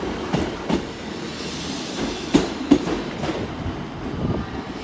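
A Class 150 diesel multiple unit rolls into Exeter St Davids station on a Saturday afternoon, with rhythmic clickety-clack of wheels over rail joints, a steady rumble and a few sharper knocks as it arrives close by.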